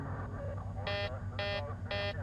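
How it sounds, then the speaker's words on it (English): A cockpit warning alarm sounds on the Helios 522 airliner as it climbs unpressurized, blaring in three repeated loud buzzing bursts about half a second apart over steady cabin engine rumble. "an alarm blares in the cockpit."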